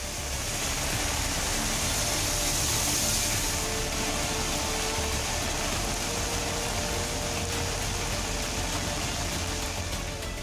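Heavy monsoon rain pours steadily in Kottayam, Kerala, a dense, constant wash of noise with faint traffic rumbling beneath.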